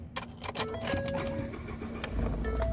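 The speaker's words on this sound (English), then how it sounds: "the key starts the car" A 2014 Ford F150 cranks with its key, with clicks and a key jingle, then the engine catches and settles into a steady near idle.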